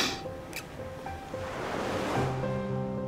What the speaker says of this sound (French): Les vagues caressent le sable.